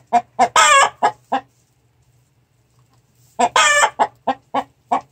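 A rooster in a backyard henhouse gives a loud, close run of clucking, cackling calls like a hen that has just laid, in two bursts separated by a short quiet gap while courting a hen.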